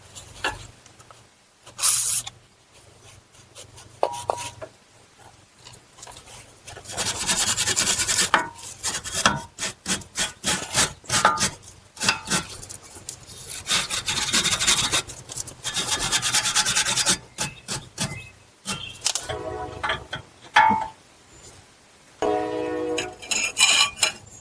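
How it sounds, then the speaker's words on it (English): Wire brush scrubbing the threads of an outer tie rod end on a Buick Enclave or GMC Acadia: repeated close, rough scratching strokes in irregular bursts with short pauses, continuing for over twenty seconds. "We'll take a wire brush"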